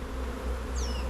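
Honeybees buzz at a hive in a farm apiary during a late May inspection, a dense, steady, close drone over the whole short moment, with a thin high whistle sliding briefly near the end.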